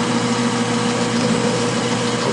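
A metal lathe runs steadily with a large tapered-shank drill bit fitted for drilling, giving a loud, continuous mechanical hum and whine heard up close, with no talking.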